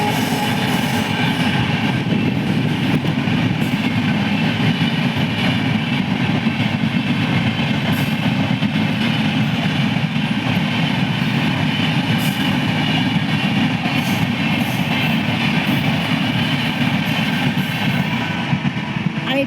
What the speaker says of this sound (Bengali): এই যে দেখো ট্রেন যাচ্ছে।